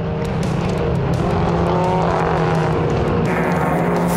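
Several racing cars, Van Vuren's BMW among them, roar flat out along a track toward the start-finish straight. The engine noise is loud, dense and continuous, with one car's note shifting near the end.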